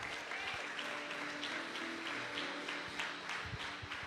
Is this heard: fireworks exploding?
no